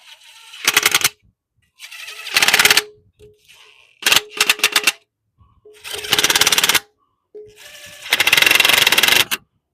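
A 3/8 impact gun tightens screws in several loud, close rattling bursts of one to two seconds each, separated by short pauses, with faint sounds between bursts.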